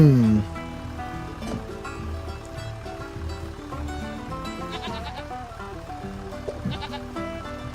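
Goats bleat repeatedly in the farm game Farming Simulator 25, moderately loud against steady background game music and ambience.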